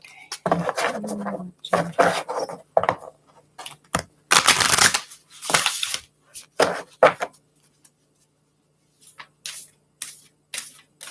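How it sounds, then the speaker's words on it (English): A deck of oracle cards being shuffled by hand, with bursts of riffling and sliding card noise in an irregular rhythm, close and fairly loud with short pauses between. "Let me get these shuffled really good"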